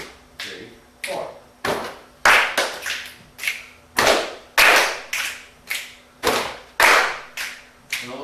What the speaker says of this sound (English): this pattern is called patch, clap, snap, snap. Now it's in 4/4.